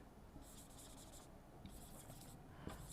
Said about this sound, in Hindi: जैसे एक सेंटेंस हम लिखते हैं